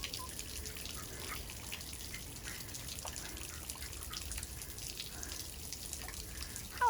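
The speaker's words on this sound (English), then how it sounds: "Waterfall, not fountain. The water is flowing down." A small waterfall on the Katy Trail near Rocheport sends water flowing down in a faint, steady wash that runs unbroken throughout, with no voices.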